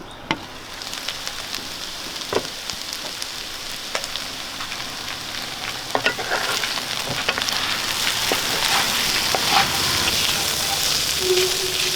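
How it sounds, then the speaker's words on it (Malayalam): Onion chicken frying in a pan, a steady close sizzle that swells gradually, with scattered clicks and scrapes from stirring and no voices. "നമുക്കിനി ഇത് തുറന്ന് ഇളക്കി കൊടുക്കാം"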